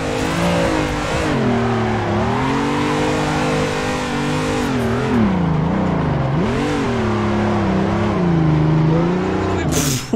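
A BMW drifts in third gear in Assetto Corsa, its engine droning loud and close, rising and sagging in pitch as it bogs and strains under load.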